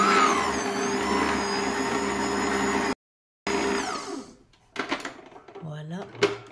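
An electric mixer whirs with a steady motor whine as it blends melted butter, brown sugar and white sugar for triple-chocolate cookie dough, cutting out briefly before starting again in uneven, rattling bursts; a voice talks over it.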